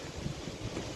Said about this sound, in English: It's really windy in this part of the woods,